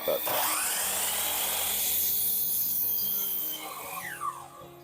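A power saw tilted to 45 degrees slices through a board for custom liquor-bottle shelving, a loud continuous whining cut of about four seconds that winds down at the end.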